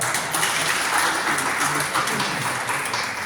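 A crowd at a disability rights gathering in Tumkur gives loud, continuous applause for district hospital surgeons, a dense clapping roar throughout with no speech.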